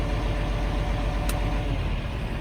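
A truck engine idles with its idle raised, a loud, steady mechanical drone close by that holds even throughout with no speech.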